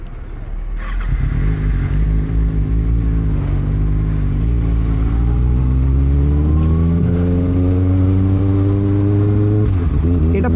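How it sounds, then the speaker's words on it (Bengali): A Kawasaki Ninja ZX6R motorcycle engine runs loud and close, its pitch climbing steadily as it revs up over several seconds, with faint talk barely noticeable under the engine noise. "গাড়িটা স্টার্ট করে নেওয়া যাক।"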